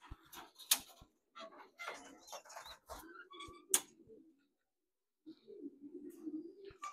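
Pigeons in a racing pigeon loft coo and call in bursts, with scattered clicks and flutters nearby, a louder stretch of low cooing toward the end.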